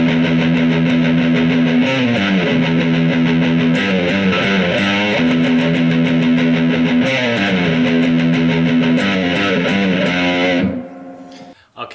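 A heavy distorted electric guitar riff plays loudly and steadily, repeating its chord pattern before cutting off near the end.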